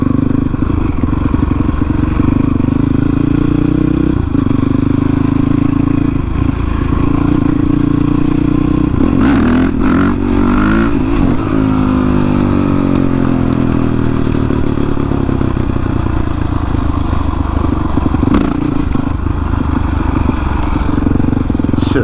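Honda CRF 450X supermoto motorcycle ridden through a parking lot, its engine droning loudly and steadily close by, with surging revs and clattering rattles in the middle stretch.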